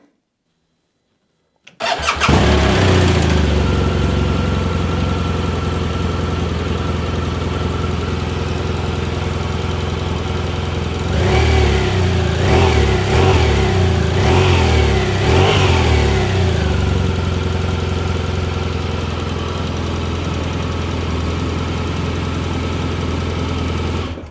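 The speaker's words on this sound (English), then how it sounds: "it has a pretty unique exhaust note too, kind of a deep rumble and a muscular sound, and we'll do a cold startup clip here and let you listen to that" A 2017 BMW R1200RT motorcycle starts from cold after a moment of silence, the starter catching into a deep, loud, steady exhaust rumble, with a few short blips of revs midway before it settles back to idle.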